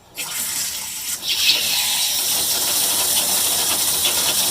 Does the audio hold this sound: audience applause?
no